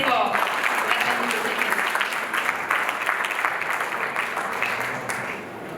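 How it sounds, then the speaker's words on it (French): An audience at the Miss Mauritius ceremony applauds the sponsors with loud, steady clapping from many hands, sustained for several seconds and easing slightly at the end. "On les remercie et on les applaudit très fort."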